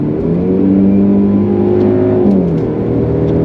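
A Mercedes C200 4Matic accelerates hard while overtaking, its engine note climbing through a loud, close, steady whirring rev heard from inside the car, with no talking.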